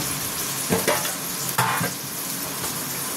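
Tomatoes fry in a pan of spiced paste for a green jackfruit curry, giving a steady loud sizzle with a few scraping stirs of a spoon against the pan.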